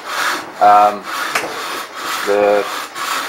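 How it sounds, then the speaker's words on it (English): A handsaw cuts through pallet timber in steady back-and-forth strokes, each a close, rasping scrape, with a brief spoken word between strokes. "Alright, so now we're in there, I can just saw."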